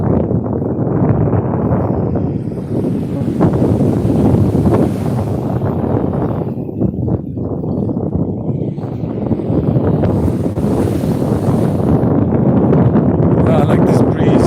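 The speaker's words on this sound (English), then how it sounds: "I like this breeze. Like I said, I don't have my wind mic." Breeze buffeting an unshielded microphone on a beach at Santa Marta, Colombia, a loud continuous low rumble that swells and eases, with someone talking over it.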